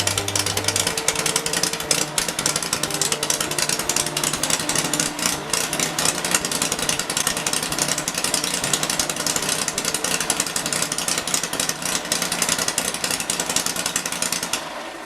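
A loud VW engine in a rail buggy runs steadily with a harsh, rapid mechanical clatter that stays constant throughout, close and unbroken, with fan noise.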